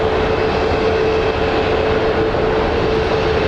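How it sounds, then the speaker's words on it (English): SkyWest regional jet departing Phoenix Sky Harbor airport, a loud steady engine roar with a sustained whine throughout, with no talk over it. "SkyWest 4020 departing for LA."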